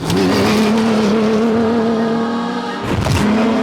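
A Dakar rally car's engine holds a loud, close, sustained roar that wavers slightly, then dips and surges again near the end, with no talking.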